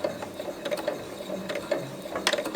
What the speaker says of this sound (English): Sewing my first strap. Okay, I'm just gonna back stitch.